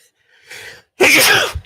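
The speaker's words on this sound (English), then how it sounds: "Hang on, I gotta sneeze." A single close sneeze: a brief inhaled buildup, a short pause, then a loud burst of breath.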